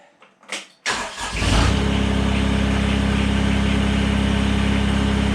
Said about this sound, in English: now I'm gonna start the tractor.